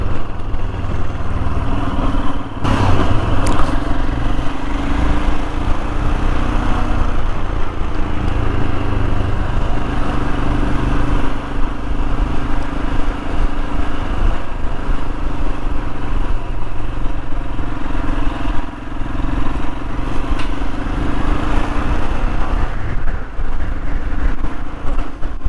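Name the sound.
Royal Enfield Himalayan motorcycle riding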